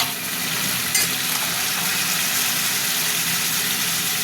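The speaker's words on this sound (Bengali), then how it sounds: "এবার দিয়ে দিলাম টমেটোটা" Chopped tomato dropped into hot oil for a vegetable curry, giving a loud steady sizzle and frying hiss that begins with a brief clatter.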